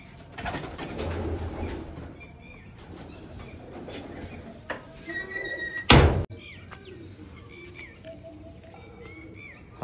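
Dyed pigeons being handled, with fluttering wings, soft coos and chirps close by, and one sharp thunk near the middle amid light rustling.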